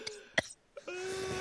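A single short, sharp cough or throat clear from a person, quiet and brief, followed by a steady faint tone.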